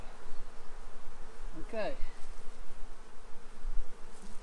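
A dense, steady buzz of a large honeybee swarm humming together, close and continuous, with a single short word spoken partway through.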